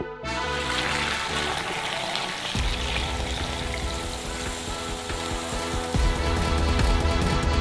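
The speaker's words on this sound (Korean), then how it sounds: "커피는 이미 끓었으므로 스토브에서 꺼내 큰 컵에 부어주세요" Hot coffee from a stovetop pot pours steadily into a large cup, a continuous loud close splashing stream with a slight shift in tone midway, no voices.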